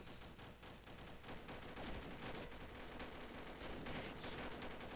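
Rapid gunfire in the video game Combat Arms, a dense, continuous run of quick shots and bursts that stays fairly faint and even throughout, with no talking over it.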